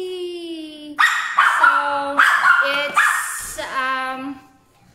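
Hungry dogs at a family mealtime give repeated loud, close barks and whiny yips in quick succession, with a brief spoken word early on.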